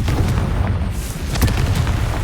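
Confringo fire spell blasts in Hogwarts Legacy, booming explosive bursts with crackling fiery impacts, loud and continuous through the short stretch.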